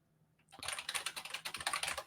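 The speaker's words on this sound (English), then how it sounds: "What are you typing?" Rapid clattering keystrokes on a computer keyboard start after a brief silence and run on steadily, close and crisp, with no voices over them.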